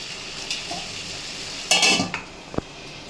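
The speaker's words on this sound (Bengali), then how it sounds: "বন্ধুরা, এবার আমি ঢাকাটা খুলে আবার দেখে নিচ্ছি।" A metal lid is lifted off a cooking pot of simmering bottle gourd shukto, giving a brief metallic scrape and clank followed by a short clink, with faint kitchen background.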